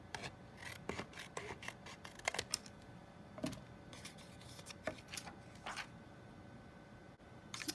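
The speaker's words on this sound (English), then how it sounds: "So I'm just going to take my scissors and go and cut from corner to corner." Scissors snip through paper in a series of short crisp cuts, irregularly spaced, close by and fairly quiet, with no talking.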